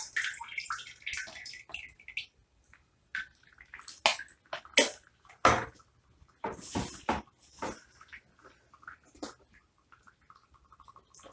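Irregular wet gurgles and soft pops of water bubbling up through soil in a plant pot, close and quiet, in uneven bursts with brief pauses.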